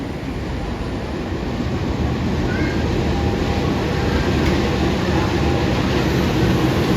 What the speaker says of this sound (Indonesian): Ini ada lokomotif CC206